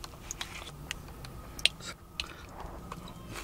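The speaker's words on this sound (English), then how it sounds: "I'm going to take another bite because it should be enjoyed while it's still freshly made and retain some of that crunch" Crunchy bhel puri, Indian street food topped with grated coconut and puri, being bitten and chewed close up, with soft crisp crunches and a few sharper bites scattered over a steady low background, no talking.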